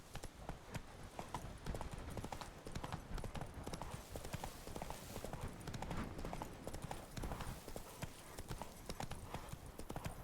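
Horse hooves clip-clop at a steady gallop while riding in The Witcher 3 video game, a fast, continuous beat of hoofbeats with a voice speaking briefly over it.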